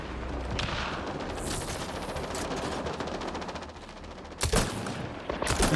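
Rapid automatic gunfire rattles continuously in a sci-fi shooter game, Mass Effect Andromeda, with dense bursts and a couple of heavier blasts near the end, loud and close without talk.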